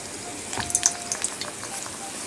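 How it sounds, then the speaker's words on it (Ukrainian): Hot oil sizzling and crackling close by, with small popping bursts as dough for mandryky (Ukrainian cheese dumplings) hits boiling oil. "і опускаємо у киплячу олію"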